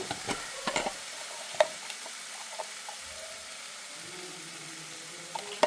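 A spoon scrapes and stirs chicken curry in a pan after pepper powder goes in, with soft clinks and scrapes over a faint, steady simmer. The sounds come in short bursts, close and fairly quiet, with no voices.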